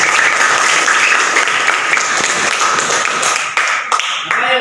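Students applaud in a classroom, a dense, continuous burst of clapping from a group that fills the room and stays steady throughout.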